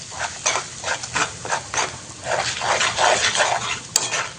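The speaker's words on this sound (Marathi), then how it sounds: "आता हे छान असं परतून घ्यायचं आहे आपल्याला" Homemade spices and salt sauté in a pan for Maharashtra-style chicken rassa, with a low sizzle under rhythmic spatula stirring and scraping, near and fairly loud, with a couple of sharp metallic clinks.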